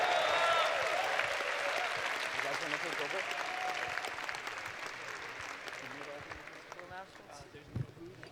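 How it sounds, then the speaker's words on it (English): A hackathon closing-ceremony crowd applauds the grand prize winners with sustained, dense clapping that slowly fades. A voice talks over the start of the applause. "can we have a huge round of applause for the grand prize winners"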